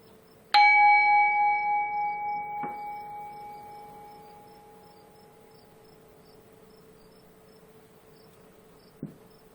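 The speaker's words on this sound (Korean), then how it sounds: "이제 마음을 차분히 가라앉힐 수 있는 종소리를 들려드릴게요." A calming bell is struck once and rings clearly with a long, slowly fading shimmering tone, then a lighter tap follows; a faint later tap sounds in the quiet.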